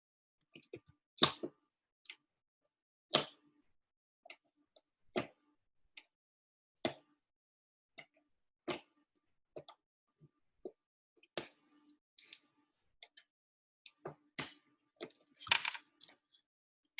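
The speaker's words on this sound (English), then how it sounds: "So I'm going to poke my holes right where I marked where the stars would be." Sharp, irregular clicks and pokes, some loud and some soft, scattered over quiet silence, as a pen punches holes through a cardboard box.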